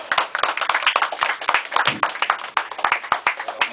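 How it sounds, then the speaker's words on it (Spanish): At an alternative poetry festival in Medellín, an audience claps to welcome a poet, with distinct, sharp individual handclaps in a quick uneven rhythm, close and fairly loud, from a modest group rather than a roaring crowd. "recibámoslo con un aplauso"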